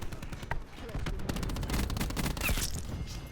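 Video game combat, where rapid automatic gunfire rattles in quick bursts alongside a cluster grenade being thrown and exploding, loud and busy for a few seconds.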